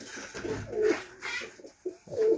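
Pigeons coo in their enclosure at a breeding loft in August, giving several close, soft throaty coos in an uneven rhythm over low background rustle, with no talk.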